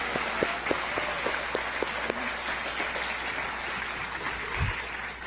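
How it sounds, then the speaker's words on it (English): Applause from an awards ceremony audience rolls on as a soft, steady patter, fairly faint and distant, with a few sharper isolated claps early on and a low background rumble. "let's give a round of applause for the group and for all student groups that do casework"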